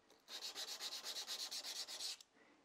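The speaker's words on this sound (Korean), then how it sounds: "이렇게 사포를 이용해서 밀어서 위쪽 깨끗한 부분까지 정도를 이렇게 두 개가 같게 만들어 줄 거예요" Sandpaper pushed by hand along a Global kitchen knife blade during repair, giving about fourteen quick rhythmic scraping strokes, close and clear, with no talk.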